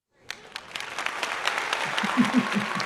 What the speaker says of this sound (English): So give yourself right now a big round of applause